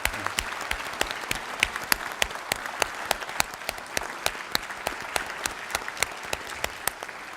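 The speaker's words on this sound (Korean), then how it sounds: "뜨거운 박수로 환영해 주시기 바랍니다." Applause fills the National Assembly chamber as lawmakers welcome the Dutch King Willem-Alexander seated in the fourth-floor guest gallery: a steady, dense patter of many hands with sharper individual claps standing out, and no talk.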